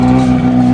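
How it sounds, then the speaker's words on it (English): A rally car arrives at the stage finish of the Rally Poland, its engine holding a loud, steady note close by throughout the short moment. "So first car's here."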